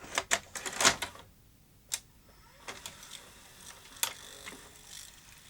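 A VHS deck loads and laces a tape, giving a run of light mechanical clicks and whirring clunks, busiest at the start, then scattered ticks at close range with no voices.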